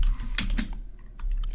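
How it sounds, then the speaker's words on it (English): Quick typing on a computer keyboard while entering a PostgreSQL select statement, a short burst of crisp, close key clicks with uneven spacing and no speech. "let's quickly check by typing in a quick select statement"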